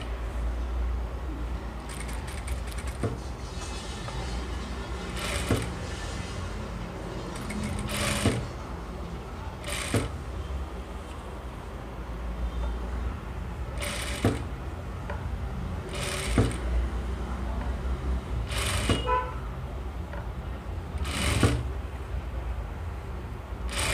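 A sewing machine stitches a frill on a small child's frock, a steady close mechanical whir with brief pauses and sharper clicks every few seconds as the fabric is repositioned.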